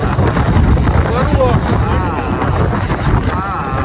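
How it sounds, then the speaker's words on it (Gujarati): Strong, cool wind buffets the microphone in a continuous low roar, with faint voices barely audible underneath. "ટાઢો પવન આવે હે"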